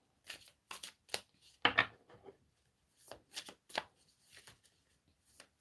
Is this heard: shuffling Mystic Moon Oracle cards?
yes